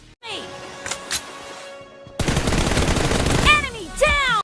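A mobile shooting video game fires gunfire: a few sharp shots, then a dense, loud burst of rapid automatic fire with ringing tonal effects near the end.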